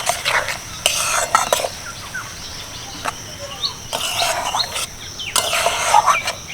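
Garlic and green chilli are stirred in oil over low heat for garlic pickle, giving intermittent scraping and clinking bursts of a spoon against the pan, with a soft sizzle between strokes.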